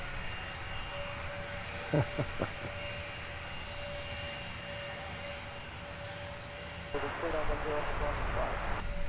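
A Ryanair Boeing 737-800 at Luton Airport pushes back, its engines giving a steady distant whine and hum, with a brief higher tonal sweep near the start and louder rushing toward the end.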